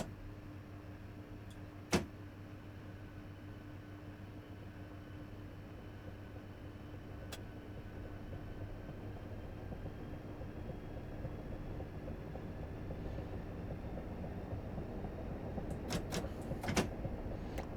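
In Train Sim Classic on the Chatham Main Line, cab levers click sharply, once early and then in a quick cluster near the end, over a constant low hum and rumble of the moving train.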